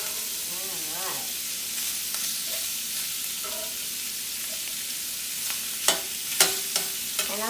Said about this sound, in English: we're going to go ahead and just brown the sausage a little bit